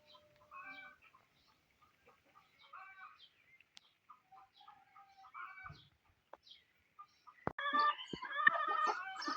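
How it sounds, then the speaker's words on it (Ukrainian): A hen clucks in scattered short calls against quiet surroundings after laying an egg, then breaks into a louder, rapid cackling burst at the end. "Курочка знеслась і ніяк не заспокоїться. Розкудахталась."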